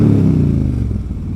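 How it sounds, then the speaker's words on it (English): A motorcycle with a loud, throaty exhaust rides under a bridge, its deep rumbling roar close and powerful throughout the short burst. "It's not as loud as a Sportster with those short shot Vance Hines, but she is quite throaty"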